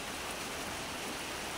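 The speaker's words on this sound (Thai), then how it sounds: "ฝนกำลังตกรินๆเริ่มแรงขึ้นแรงขึ้นแล้ว" Steady rain falling, a continuous dense hiss of drops with no breaks, even and moderately loud throughout.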